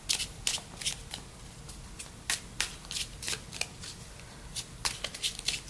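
Tarot cards being shuffled by hand, a steady run of crisp riffling flicks and soft slaps, close and fairly quiet, with no talking.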